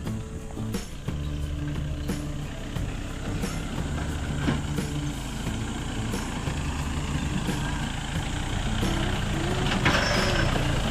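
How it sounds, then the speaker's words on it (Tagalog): A jeep engine runs as the vehicle is driven in near Mt. Pinagbanderahan in Maragondon, Cavite, giving a steady, fairly loud low rumble with a few sharp clicks and knocks over about ten seconds. "Naipasok yung jeep."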